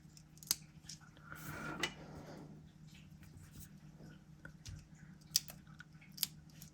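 Paper being cut into pieces with scissors, several short snips spread across the clip over a low steady hum, with a brief rustle of paper handling in the middle.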